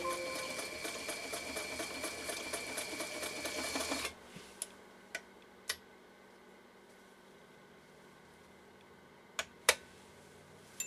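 A Japanese Elgin 2468 sewing machine with a 1.3 amp motor stitches in a fast, loud mechanical run for about four seconds, then stops, leaving a quiet room broken by a few sharp isolated clicks and taps.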